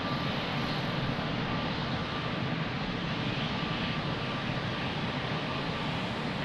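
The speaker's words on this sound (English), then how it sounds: "beautiful Etihad is taxiing." An Etihad airliner taxis at Lisbon Airport, giving off a steady, fairly faint engine hum and broadband roar heard from a distance that holds evenly throughout with no voices.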